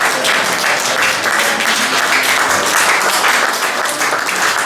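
A church congregation applauds and acclaims during a worship service, producing loud, dense, continuous clapping that fills the room without pause.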